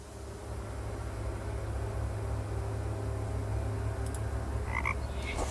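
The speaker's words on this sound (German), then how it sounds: "Und das ist der 50. Frosch." A frog croaks in the Raincliff video game, with faint repeated croaks over a steady low hum and noisy background, then a few brief higher chirps near the end.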